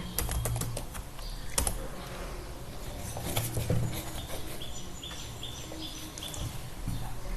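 Typing a sudo apt update command on a computer keyboard: quiet, irregular bursts of clicky keystrokes with short pauses between them, close and alone.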